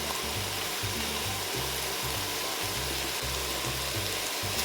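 Potatoes and chickpeas sizzle in a spiced oil tempering for a sambar, a continuous frying hiss over a repeating low rhythmic hum, with no talking.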